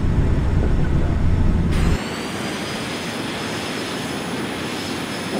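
Both aircraft engines in Microsoft Flight Simulator X spool up to full throttle, a loud, steady jet-like roar with a rising whine that settles into a constant broadband rush, alone without talk.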